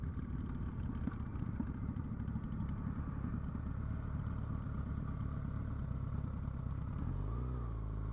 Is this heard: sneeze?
no